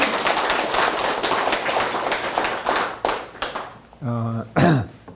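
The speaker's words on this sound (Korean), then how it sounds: "다시 한번 박수." Audience applause at a peace and reunification lecture, a burst of clapping that thins out and fades, followed by a short tonal sound and a brief voice near the end.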